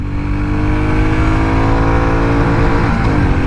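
A Royal Enfield Bullet 350 single-cylinder motorcycle engine pulls hard in third gear with a loud, continuous, throbbing exhaust note and steadily climbing revs heard up close, with no talking.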